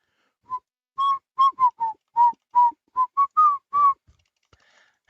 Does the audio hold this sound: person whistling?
yes